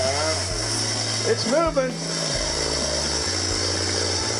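A chainsaw idles and revs while cutting trees downed by a hurricane in a Florida backyard, its steady low drone shifting pitch in steps as a person speaks briefly over it.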